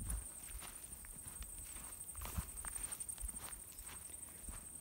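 Footsteps walking outdoors across rough pasture, a steady series of soft crunching steps at close range with light wind in the background.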